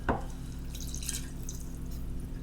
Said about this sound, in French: ce qu'il nous reste à faire, c'est de venir mettre de l'eau jusqu'à la ligne